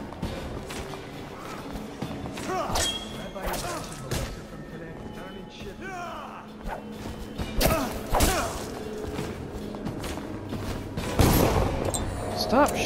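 Gunfire and impacts in the stealth action game Dishonored, a run of sharp bursts and thuds spread through the clip over busy game noise, with a voice talking across it.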